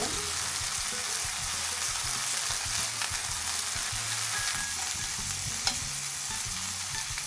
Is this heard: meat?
yes